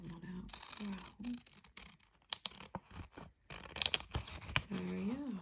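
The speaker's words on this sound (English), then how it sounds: "So let's cut that one out as well." Scissors cutting an image out of a printed art publication, close snipping and paper rustling in irregular bursts, with a voice talking at the start and end.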